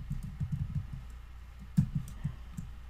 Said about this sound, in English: So I'm going to continue typing